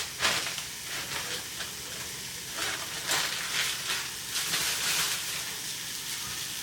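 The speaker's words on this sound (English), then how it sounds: "They're already cooked, but we'll go ahead and fry them in the pan." Precooked food frying in a pan, a steady close sizzle and hiss with brief stirring scrapes and bursts of spattering, no voices.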